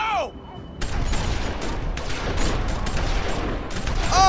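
A loud burst of gunfire in The Walking Dead Season 2 video game, a rapid fusillade of shots that follows a short electronic tone, with distorted game voices at the start and end.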